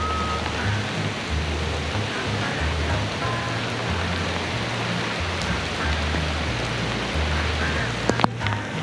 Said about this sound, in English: I'm gonna get out of the rain here